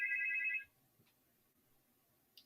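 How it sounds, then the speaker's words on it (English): Phone ringing with an incoming call on a live Friday morning talk-back radio show: a loud, steady electronic ring tone lasting about half a second, then near silence with a faint click at the end. "Got another call coming in."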